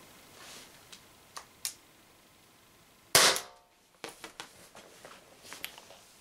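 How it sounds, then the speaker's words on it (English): Umarex HDR50 CO2 air pistol fired with its barrel removed, a single loud sharp crack standing out from a quiet room, with a few soft clicks and handling taps before and after. "It's the same CO2 canister, but it should still give at least a couple of more good power shots."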